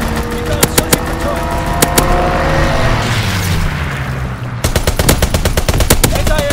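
Heavy automatic gunfire and booming impacts from a strafing run in Call of Duty: WWII, loud sustained bursts in rapid volleys with a rushing aircraft-like sweep between them.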